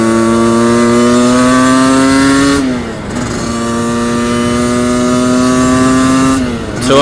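An Aprilia RS 50 geared two-stroke motorcycle engine revs loud and close, with a high buzzing tone that climbs steadily, drops back briefly, climbs again, then dips once more near the end, with no speech.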